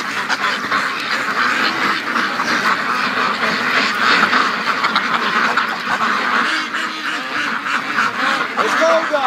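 A flock of free-range ducks keeps up dense, overlapping quacking near a thawing lake and open creek, steady and loud throughout, with someone occasionally talking over them.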